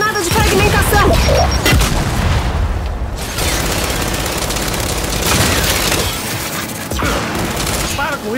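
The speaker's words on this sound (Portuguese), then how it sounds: "Granada de fragmentação." Frag grenade explosion and gunfire in Gears 5 on Insane difficulty, loud sustained bursts of automatic fire and heavy booms filling the whole stretch, with a brief dip before firing resumes.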